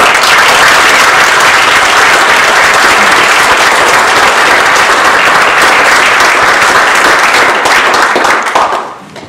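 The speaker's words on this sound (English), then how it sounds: "So give yourselves a round of applause." An audience at a Toastmasters international speech contest gives a long, dense round of applause, many hands clapping loudly and steadily before it fades out at the end.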